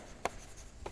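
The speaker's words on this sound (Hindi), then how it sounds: "मैं देखो लिख दे रहा हूं यहां पे" Chalk or marker writing on a board during a class 9 maths lesson: two brief, faint scratchy strokes against a quiet room.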